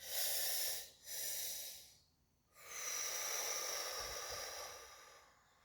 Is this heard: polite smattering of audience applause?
no